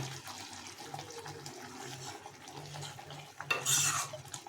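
Amul butter being stirred into a paneer curry in a pan, a steady soft scraping and swirling with light clinks, then a brief louder hiss near the end.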